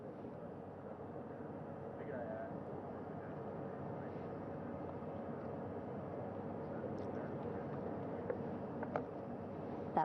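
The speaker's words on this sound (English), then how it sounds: "That first helicopter now on its way back to the ship here." A recovery helicopter flies back to a ship after an Artemis II astronaut hoist at sea, its engine a steady, distant low drone with wind noise and faint intermittent clicks.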